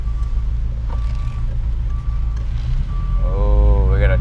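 A truck pulls in nearby with a rumbling engine and a repeated high reversing beep, heard from inside an idling 1986 Ferrari 328 GTS, with a voice talking over it toward the end.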